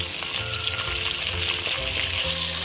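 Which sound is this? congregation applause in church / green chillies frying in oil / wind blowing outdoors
green chillies frying in oil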